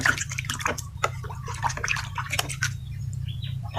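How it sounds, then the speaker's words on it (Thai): One teaspoon of fabric softener is poured into rinse water for hand-washing white school shirts, giving a scatter of small drips and light splashes over a steady low background hum. "เทน้ำยาปลัพผ้านุมลงไปหนึ่งช้อนชาเหมือนเดิมค่ะ"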